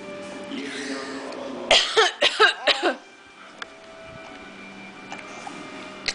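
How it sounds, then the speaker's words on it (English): Several sharp coughs from a baby in a quick cluster, close and fairly loud, followed by quiet room sound with faint small noises. "Are you trying to cough like me?"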